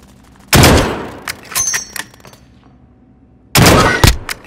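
Loud gunshots in a PlayStation 4 shooter game come in two sharp bursts separated by quieter rattles, clicks and a faint tone, with near silence in between.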